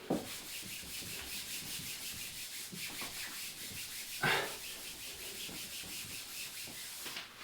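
Writing wiped off a board by hand, like a school teacher, giving a continuous soft rhythmic rubbing and swishing, close and quiet, with one brief squeak partway through and no talking.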